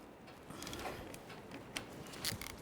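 Fog light mounting nut being tightened on a 2012-2018 Nissan Altima: quiet ratcheting clicks and small mechanical ticks, close and faint, no talk.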